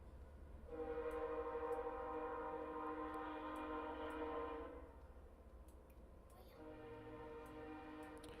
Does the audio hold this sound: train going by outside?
yes